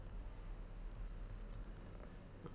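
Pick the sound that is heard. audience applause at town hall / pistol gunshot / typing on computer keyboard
typing on computer keyboard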